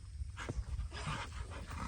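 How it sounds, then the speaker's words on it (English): Puppy panting close by, quick soft breathy huffs repeating over a couple of seconds, faint and alone. "Oh, watch out for the puppy."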